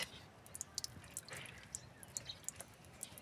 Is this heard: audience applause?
no